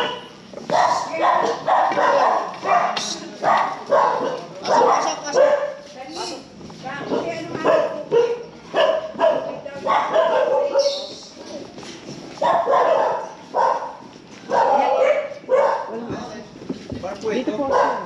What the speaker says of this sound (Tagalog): May mga aso pala kayo.